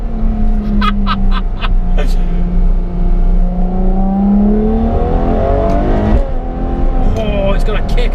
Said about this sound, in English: Watch how quickly this downshifts.